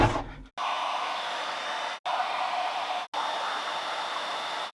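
A heat gun shrinking heat shrink tubing onto a handheld spot welder cable blows a steady, close airy roar that cuts out twice briefly and restarts, with no talking.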